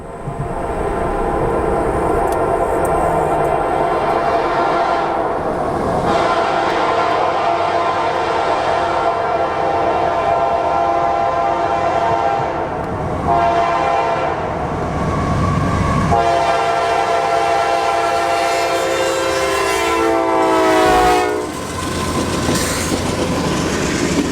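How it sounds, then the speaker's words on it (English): A train rumbles past at close range with steady loud clattering and wheel noise, its horn sounding in long sustained blasts near the end, heard from a waiting Ford F-150 at a crossing. "Looks like we got a train coming, so we might have to wait a minute."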